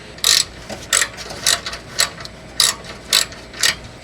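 A ratchet tightens the nuts on a muffler strap under a Mercedes GL320 CDI, about eight short, sharp bursts of clicking spaced roughly half a second apart, close and clear with no talk.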